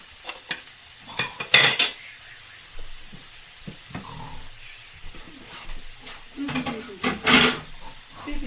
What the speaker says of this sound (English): You got that sizzling.